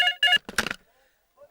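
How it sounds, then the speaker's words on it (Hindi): A telephone in a Hindi film scene rings in two short electronic bursts, close and clear, followed by a brief voice and then near silence. "महाराज, लगता है सलीम का कर्जे के लिए फोन आया है"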